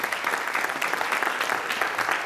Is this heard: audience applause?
yes